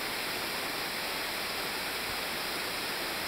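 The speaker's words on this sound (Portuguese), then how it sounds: "mais uma cachoeira aqui, afluente do Rio Isabel." Waterfall on a tributary of the Rio Isabel, a steady, dense roar of falling water filling the whole clip without pause, close and continuous, no talking.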